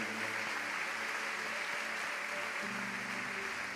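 A church congregation claps steadily after a sermon, a dense, even wash of applause lasting a few seconds with a faint musical hum underneath.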